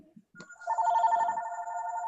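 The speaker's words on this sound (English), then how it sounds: "Somebody's phone's ringing." A phone rings nearby in a quiet room during a wreath-making session, a steady electronic ring with sustained tones that rise in after a brief pause and continue to the end.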